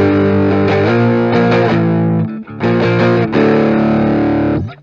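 Electric guitar bar chords through a Stax Odrive-1 distortion pedal give a fat, thick, sustained distorted tone, strummed in loud held chords with a brief gap midway.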